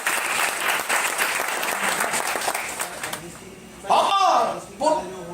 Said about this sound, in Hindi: ताली बजाइए LIC के लिए।